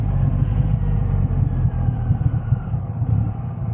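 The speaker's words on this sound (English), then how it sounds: "it's got quite a loud exhaust on it" A 2023 Triumph Rocket 3R motorcycle with a loud exhaust idles close by, giving a steady, deep engine rumble that stays even throughout.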